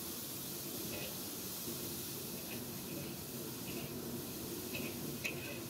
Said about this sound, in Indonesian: ini jamurnya itu banyak banget mengandung air, makanya kita tumis di awal.